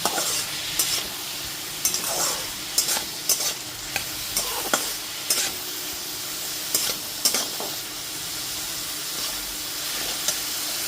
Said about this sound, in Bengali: এরপর গ্যাসের ফ্লেমটা লো টু মিডিয়ামে করে পেঁয়াজটাকে খুব ভালো মতো লাল করে ভেজে নেব